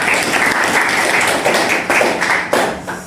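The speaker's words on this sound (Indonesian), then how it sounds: "tepuk tangan untuk Kenny dan Saka." Audience applause for students Kenny and Saka at a Jakarta high school, SMAN 93: a dense, steady wash of many hands clapping close by, sustained throughout with a few louder individual claps near the end.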